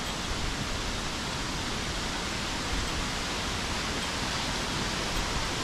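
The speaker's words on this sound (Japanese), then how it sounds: "滝すごかったね。" A waterfall on a mountain hiking trail roars with a steady, dense rush of falling water, unbroken and uniform throughout at moderate loudness. No one speaks.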